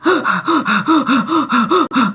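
A voice imitates panting in a quick series of about nine rhythmic, breathy gasps, close and loud, with no other sound around it.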